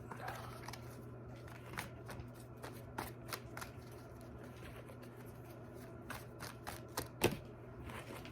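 A deck of tarot cards being shuffled during a reading, a run of crisp riffling bursts and snapping flicks in irregular rhythm, close and fairly quiet, with a sharper snap near the end.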